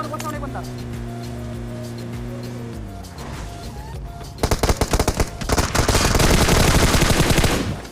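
Gunfire in a mobile battle royale game, starting with engine and vehicle hum, then rapid automatic weapon bursts crackling loudly in the second half, dense and close.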